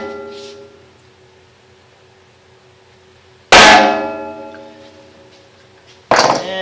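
Two sharp metallic hammer whacks on metal to mark drill centres in a shop, each loud and ringing with a long decaying tail, separated by a few seconds of near silence.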